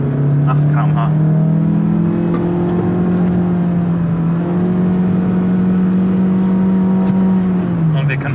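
2017 Mazda CX-3 150PS AWD accelerating under sporty driving, steady loud engine and road drone from inside the cabin with pitch climbing and easing, someone speaking German over it.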